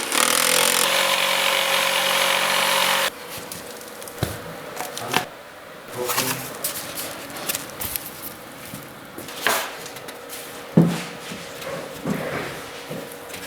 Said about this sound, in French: Puis, scie avec la scie sauteuse.